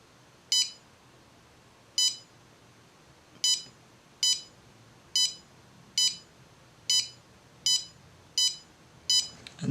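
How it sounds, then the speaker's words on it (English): A small buzzer on an Arduino build with a MAX30102 heart-rate and SpO2 sensor chirps once for every detected heartbeat. About ten short, sharp beeps repeat at a steady pulse-like pace against a quiet background, with no talking. "the buzzer makes a noise every time there's like a beat, a heartbeat is detected"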